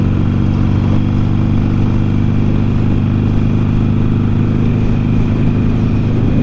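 A motorcycle on a country ride from Atascadero toward the Pozo Saloon gives a steady, loud engine drone with wind rush, holding an even pitch throughout without breaks.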